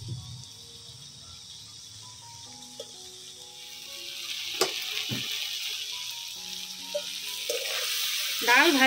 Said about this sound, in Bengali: প্রথমে ডালটাকে একটু ভেজে নিতে হবে।